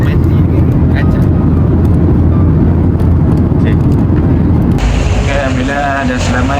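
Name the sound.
airplane landing at Kota Bharu, Kelantan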